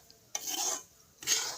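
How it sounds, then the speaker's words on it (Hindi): Semolina roasting in a pan while being stirred, two distinct rasping scrapes of the spoon against the pan separated by a short quiet gap, close and fairly faint. "सूजी को भून रही हूँ"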